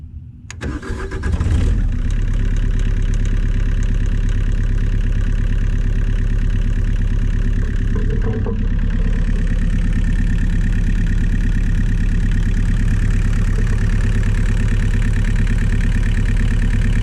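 A Terex HR16 excavator engine cranks briefly and catches, then settles into a steady, loud diesel idle that runs unbroken to the end, with a slight shift in tone partway through.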